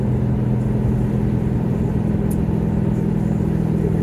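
A car on new, wider tires cruises steadily with a continuous low engine and road rumble, a close, even drone with no voices.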